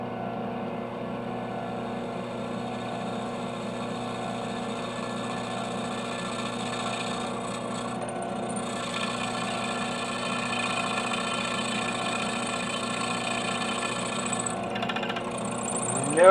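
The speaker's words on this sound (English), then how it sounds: "see if I can't get a hole to drill through" A drill bit bores through a metal knife guard with a steady, continuous mechanical whine that drones at an even level throughout, slightly louder toward the end, with no talking.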